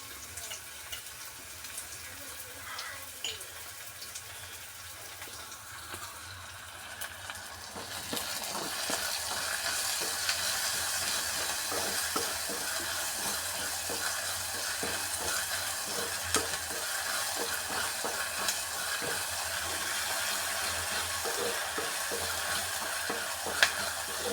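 Oil sardines frying in a pan, a steady hiss and crackle that starts quieter and swells into a loud, continuous sizzle about a third of the way in, with occasional stirring clinks and no talking.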